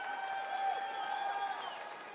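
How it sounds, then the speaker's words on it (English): A live audience at a Summer Game Fest video game showcase claps and cheers steadily throughout, a dense wash of applause with crowd noise and a sustained musical tone underneath. "Everybody was cheering for that one."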